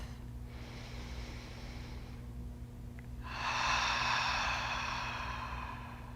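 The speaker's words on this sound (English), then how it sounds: "Take a deep breath." A single deep breath during a prenatal yoga session: a soft, slow inhale through the nose followed after a short pause by a longer, louder sighing exhale, close to the microphone over a low steady background hum.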